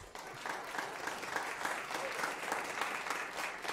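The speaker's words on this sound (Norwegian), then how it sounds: "Så må jeg jo gi en fin applaus" Audience at a jazz concert applauds a bass player, a steady wash of many hands clapping at moderate distance, fairly faint throughout.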